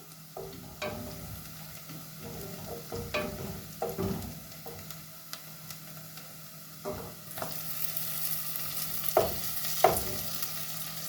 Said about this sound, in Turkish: Soğanla havucunu iyice kavuruyorum